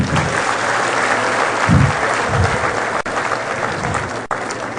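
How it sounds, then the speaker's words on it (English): Steady applause from a seminar audience after a talk on an annual seminar's third day, a loud, even wash of many hands clapping without pause. "Another hearty clap"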